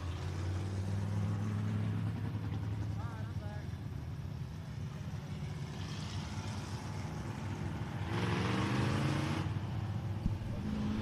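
USRA Limited Modified race cars rolling out onto a dirt speedway, their engines idling and burbling in a steady low rumble, rising briefly toward the end, while a voice talks over a loudspeaker.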